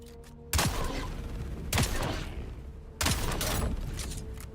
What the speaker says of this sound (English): We have to check out my new pistol real quick.